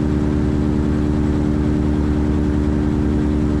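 Tecnam P2006T twin-engine aircraft in flight with one engine being idled and feathered, a steady loud droning hum with strong low harmonic bands, continuous and unchanging with no talk.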